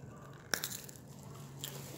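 A single crisp crunch from biting into a large freeze-dried cranberry coated in dark chocolate, a sharp close snap followed by a faint, airy second crunch a moment later, with no talking.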